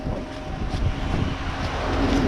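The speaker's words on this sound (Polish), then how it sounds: "najgorsze, że wieje bardzo mocny wiatr" Strong, cold wind buffets the microphone in a field during wheat sowing with a Fendt 933 tractor, a continuous low rumble and gusty roar, steady and close, with no voices.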